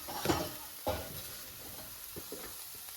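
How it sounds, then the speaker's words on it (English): Butter melts with onions in a pot while a spoon stirs, giving a soft sizzle under a few louder scraping strokes against the pot, close and without talk. "add 1 tablespoon of butter. It can be unsalted or salted, and keep stirring until the butter is melted and evenly distributed."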